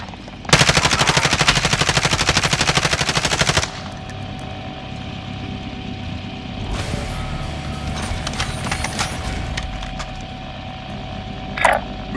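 Automatic weapon fire in Warzone on Rebirth Island: a loud, sustained rapid burst of shots for about three seconds, then quieter scattered mechanical clicks and one sharp, brief shot near the end.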